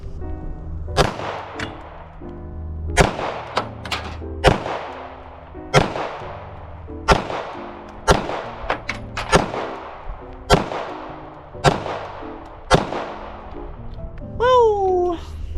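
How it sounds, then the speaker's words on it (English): Ten sharp, loud 9mm pistol shots ring out from a Smith & Wesson SD9 2.0 at the range, fired in a quick, slightly uneven rhythm, each with a short decaying echo. "10 shots, 10 yards."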